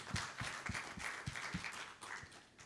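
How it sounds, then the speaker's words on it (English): Audience applause after a lecture on the science of yoga, a thin scattering of claps with a rhythmic beat at a distance, fairly faint. "A huge applause to you, Doc."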